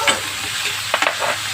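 Tomatoes go into a pan of garlic and plenty of onions already frying, giving a steady close sizzle with a few stirring clatters near the end and no talk.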